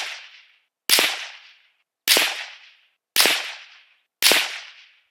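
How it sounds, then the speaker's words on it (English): Five sharp rifle shots from an Anschutz 1761 .22 Magnum fired at a 100-yard target, evenly spaced about a second apart, each a loud crack with a short decaying tail and silence between. "I'd actually like to probably shoot another group with that, just zero it here at 100"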